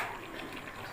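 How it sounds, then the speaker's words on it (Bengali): A little hot water goes into a pan of chicken being cooked down with spices, a brief close, steady rush of liquid pouring with a faint background hiss and no talk. "এবার সামান্য গরম জল দিয়ে"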